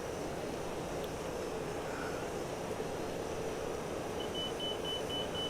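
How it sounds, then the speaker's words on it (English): In the DCS Mirage F1 cockpit, a steady jet hum fills the background, then a short run of evenly spaced, thin beeps starts in the last second as the aircraft lines up with the runway. "We're hearing the beeping noises that we're aligned with the runway"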